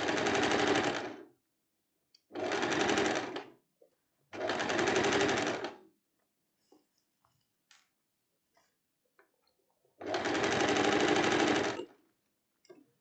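Four close, even bursts of rapid mechanical whirring come from a sewing machine stitching a dress, each lasting a second or two, with near silence and a few faint clicks in the gaps.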